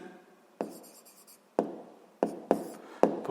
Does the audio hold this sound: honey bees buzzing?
no